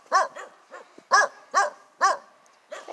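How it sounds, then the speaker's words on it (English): A dog barks repeatedly nearby, about seven sharp barks spaced roughly half a second apart with a few softer ones between. "But we got dogs."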